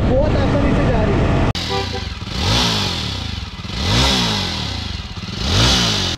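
A Jawa 42 Bobber motorcycle rides at speed, its engine revving and rising in repeated swells of acceleration and easing, with wind noise and a clattering start before the riding passage.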